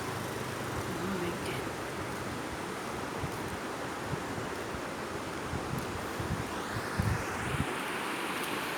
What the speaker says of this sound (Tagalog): So, ayan po yung ilog.